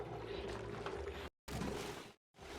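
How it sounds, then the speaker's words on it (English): Water pours into an infinite liquid storage inside a rocket in a video game: a soft, faint gushing flow that cuts out twice into brief silence before resuming. "here we see the first pieces of water going into our infinite liquid storage inside this rocket"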